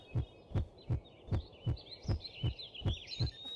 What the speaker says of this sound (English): That heartbeat means there's a bandit